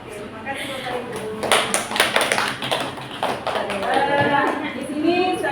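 Audience clapping in a counted rhythmic pattern at a school presentation on positive culture, bursts of claps in sets with a voice calling the counts over them.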